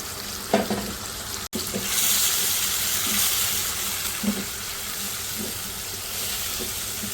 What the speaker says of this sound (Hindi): अब मैं इसके अंदर डाल दूँगी ये चिकन जो हमने मैरिनेट करके रखा है।